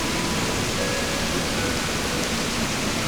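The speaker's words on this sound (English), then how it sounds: "You can listen to the soothing sounds of waterfall" A waterfall in the Animal Crossing video game rushes as a steady, even wash of loud broadband water noise that holds constant without pauses.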